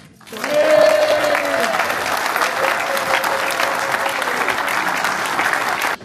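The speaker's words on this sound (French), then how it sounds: "je vous demande un tonnerre d'applaudissements." A crowd at a wine brotherhood's chapter ceremony in Bessan bursts into loud, sustained applause that swells quickly and holds dense and even, with a brief voice sounding near the start.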